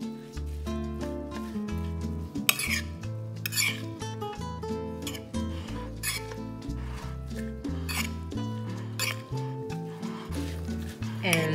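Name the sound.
stirring persimmon salsa in a bowl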